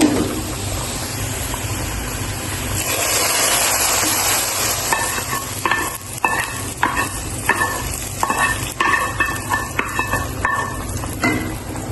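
Chopped garlic and onion fry with cumin in a pan, a loud, close, continuous sizzle joined in the second half by steady rhythmic scraping as a spoon stirs them; no talking.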